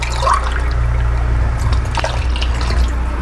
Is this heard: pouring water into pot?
yes